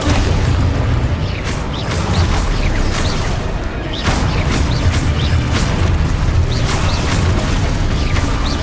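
Repeated booming blasts from the Expulso spell in Hogwarts Legacy punch through a dense, noisy combat soundscape, arriving in irregular bursts about every second.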